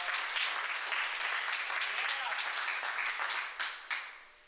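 An audience at a live performance claps for two helpers, a dense, steady round of applause that tapers off near the end with a few louder individual claps.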